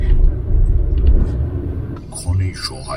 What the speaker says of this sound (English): crossing Jodhpur, and since it's a working day and 4 p.m. we are encountering a lot of city traffic